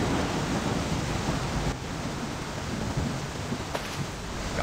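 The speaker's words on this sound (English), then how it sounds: "The stormy weather is definitely a little bit of a game changer." Stormy weather at sea in the Deadliest Catch video game: dense, steady rain hiss with a low rumble of thunder, constant and loud throughout with no talk.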